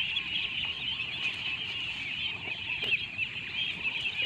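Young ducklings in a feeding pen after eating feed, with a steady dense chorus of soft peeping calls throughout, close and continuous, plus faint scattered rustling and dabbling in the background.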